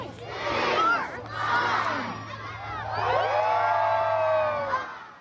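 A large crowd cheers and whoops at a night-time Christmas tree lighting in Fall River, Nova Scotia: loud, sustained shouting in three swelling waves, with excited children's voices prominent.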